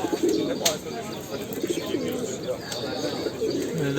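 Van Mardin pigeons coo at the Edirnekapı bird market in Istanbul, soft repeated low calls running steadily through a busy outdoor market hum, with some faint chatter nearby.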